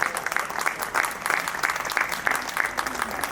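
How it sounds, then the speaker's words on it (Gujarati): Applause from an audience at a Jain religious ceremony in Gujarat, dense steady clapping from many hands with no speech over it, sustained for several seconds. "આ વ્યક્તિ માટે જેટલી તાળીઓ પાડો ને ઓછી છે."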